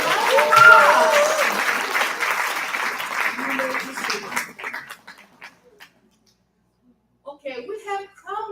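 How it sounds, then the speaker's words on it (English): Audience applause at an Atomy event, a dense burst of clapping with some voices mixed in that thins out midway, falls silent, then gives way to a few scattered voices near the end. "Please give a round of applause."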